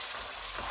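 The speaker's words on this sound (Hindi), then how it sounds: "प्याज अदरक और लहसुन का पेस्ट डालेंगे। चूल्हे को लो टू मीडियम रखेंगे और इनको 4 से 5 मिनट तक भूनेंगे।" Onion, ginger and garlic paste frying on a low-to-medium flame for a chicken dish, a soft steady sizzle that is faint and brief, with no talking.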